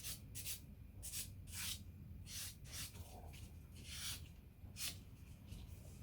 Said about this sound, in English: buffing the natural nail to remove shine